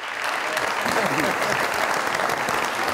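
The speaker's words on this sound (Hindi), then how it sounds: "बहुत सारी तालियां मैडम के लिए।" A game show studio audience breaks into loud, dense applause for a contestant, a close wash of clapping filling the whole moment, with a voice talking over it.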